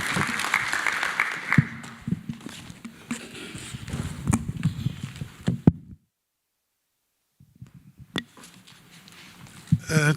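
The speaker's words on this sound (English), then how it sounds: "A big round of applause for the Executive Mayor." An audience at an International Anti-Corruption Day event claps for the Executive Mayor in a moderate, uneven burst that fades out, then a brief gap before scattered claps and movement return.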